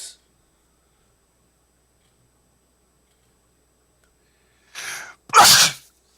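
A person sneezes once during a tabletop Dungeons & Dragons game session. A quick sharp inhale comes just before a single close, forceful sneeze, with silence around it.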